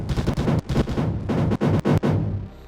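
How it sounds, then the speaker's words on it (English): A Meltdown turret firing in Mindustry, a loud, close burst of rapid pulsing blasts in a stuttering rhythm that cuts off abruptly near the end. "I want to see a meltdown shoot."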